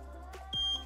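Eachine EV100 FPV goggles give a single clear electronic beep as a button is held, a steady high tone lasting about a quarter second over a low background hum.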